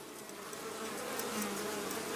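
Dense, steady drone of a honeybee colony swarming around an opened hive during frame handling, a continuous close buzz with no talking.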